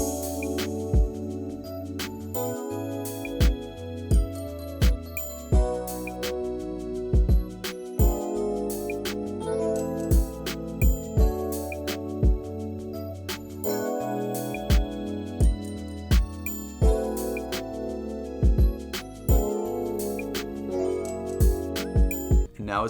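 A bouncy R&B-style beat made in FL Studio plays loud and dense, with rapid hi-hats, an open hat, claps, booming bass and layered synth chords cycling steadily throughout, with no voices.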